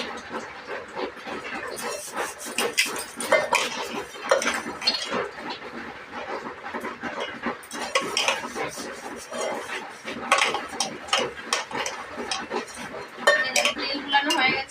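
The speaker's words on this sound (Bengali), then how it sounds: "তার আগে আমি একটু তেল গুলিয়ে নেব।" Oil stirred into a cake batter paste in a bowl, heard as busy clinking and scraping of a utensil against the vessel, close and continuous.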